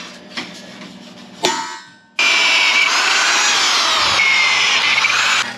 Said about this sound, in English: So we're going to go ahead and drill these.